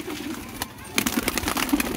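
Pigeons coo in soft, low, throaty bursts close by, with some rustling and background murmur.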